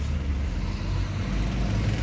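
Roadside traffic noise with many vehicles passing, a continuous low rumble of engines, cars and buses close by, steady and fairly loud throughout without a break.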